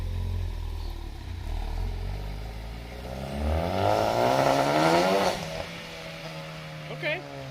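A Ford Focus ST with a catless downpipe runs and revs up, its engine note climbing to a raspy peak before dropping back to idle, with people talking nearby.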